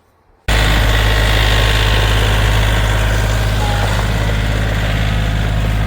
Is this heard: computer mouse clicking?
no